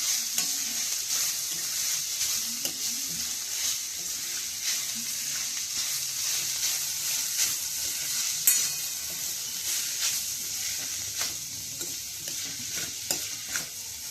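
Pumpkin roasting in ghee over a low flame, a steady soft sizzle under repeated stirring scrapes and occasional light clinks of a spoon against the pan.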